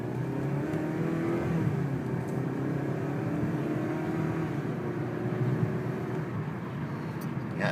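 A 2011 Kia Optima accelerates steadily on a wet road, its engine note rising smoothly as the transmission shifts, heard continuously from inside the car with a faint hiss of tyres on wet pavement.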